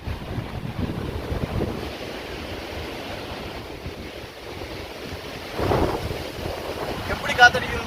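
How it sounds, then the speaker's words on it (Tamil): Strong gusting wind on an exposed hilltop during a trek, roaring and buffeting against the microphone in a loud continuous rush, with a brief stronger gust near the end. "எப்படி காத்தடிக்குதுன்னு பாத்தீங்களா? பயங்கரமான காத்து."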